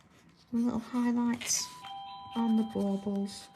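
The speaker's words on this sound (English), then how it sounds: "that was our doorbell" A two-tone ding-dong doorbell chimes twice, bright and fairly loud, while someone talks over it in a home craft setting.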